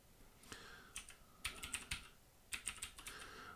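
A username and password are typed on a computer keyboard in short, uneven bursts of quiet, close key clicks with brief gaps between them.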